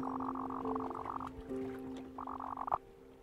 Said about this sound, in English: You don't like to eat bugs, but you're a big frog.